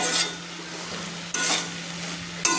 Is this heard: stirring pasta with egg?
yes